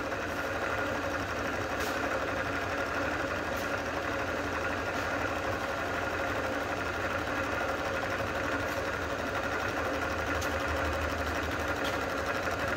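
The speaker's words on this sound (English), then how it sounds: "We're looking to take 12 thousandths off the tops of these pistons." Milling machine skimming twelve thousandths off the tops of engine pistons: a steady, dense mechanical whir with a low rhythmic rumble, running continuously and close by, with faint periodic ticks and no voices.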